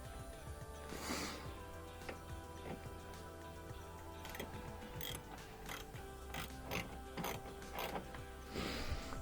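Coarse-threaded headlamp bolt being screwed into a Gen 3 Toyota Prius, giving faint ratcheting ticks and scraping over a steady mechanical hum, with no talk.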